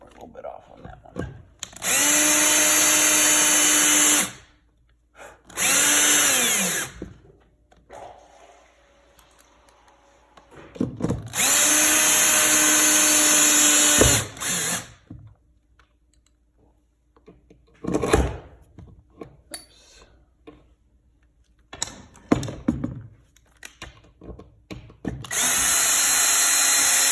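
A power drill bores holes for a floor outlet box in several loud, whining bursts of a few seconds each, separated by quiet gaps with occasional knocks and handling noises.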